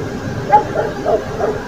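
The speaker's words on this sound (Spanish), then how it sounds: "Perro ladrando como descosidos." Dogs barking at night near a rural spot, a few short yips and barks at moderate distance with faint background noise.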